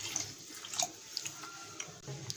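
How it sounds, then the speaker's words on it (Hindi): Water is poured into a cooking pot for mutton pulao, a soft, uneven splashing and trickling with small drips, faint and close, with no talking. "1 कप हम पानी ऐड कर रहे हैं इसमें"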